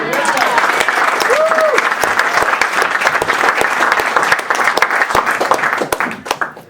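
Audience applause and cheering for comedian Jared Kowalski at a stand-up comedy show, loud and dense, filling the room steadily before tapering off near the end, with a whoop rising over the clapping.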